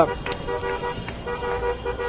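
Dozens of taxis honk their horns while circling Place de la République in Paris during a Nuit Debout night protest. Short toots repeat over a busy street rumble, some near and some farther off, with a voice faintly in the mix.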